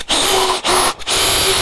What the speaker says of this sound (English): I'm gonna drill some new holes.